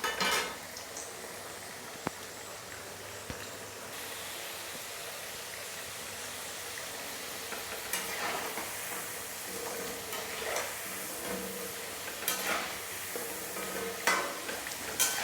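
A crispy potato snack fries in oil in a pan with a steady hiss. Occasional scrapes and clinks come through as the pieces are turned and flipped, with no voices over the sizzle.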